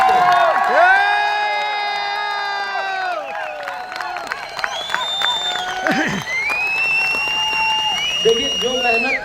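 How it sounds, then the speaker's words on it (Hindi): Crowd at a gathering in Vastral, Ahmedabad, cheering and whooping loudly with shouts and whistles, clapping mixed in, continuous and close, with raised voices throughout. "एक बार जोरदार तालियां हमारे लीडर्स के लिए"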